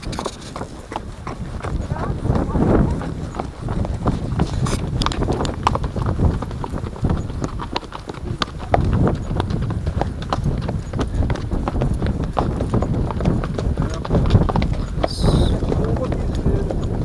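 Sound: mare's hooves clip-clopping while being ridden

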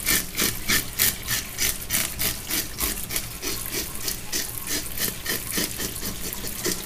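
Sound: scaling a red mouth grouper fish

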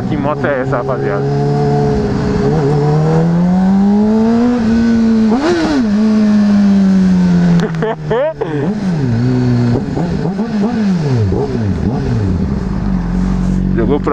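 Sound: motorcycle engine revving

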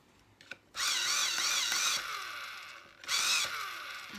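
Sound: sharpening a colouring pencil with a sharpener

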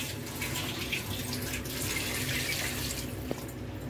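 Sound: pouring two bowls of water into chicken pulao pot

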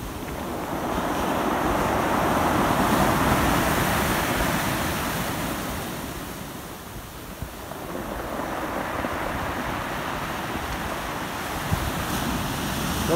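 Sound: ocean waves breaking on shore

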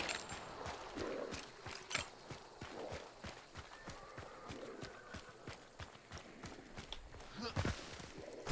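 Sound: horse neighing and hooves in a video game

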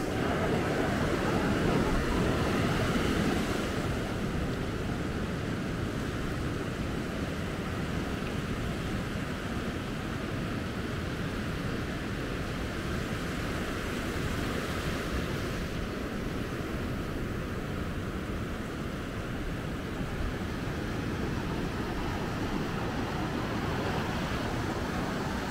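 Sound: ocean waves at Maspalomas, Gran Canaria

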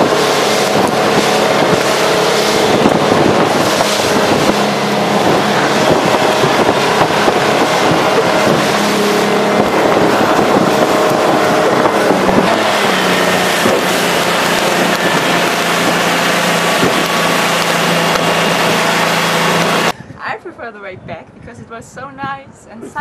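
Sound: boat bumping on rough waves

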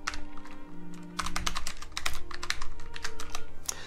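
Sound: typing on a computer keyboard

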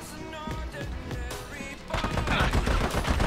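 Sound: gunfire from a gun in video game Army of Two

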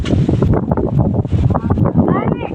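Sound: strong wind

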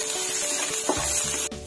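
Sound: chopped onions frying in a pan

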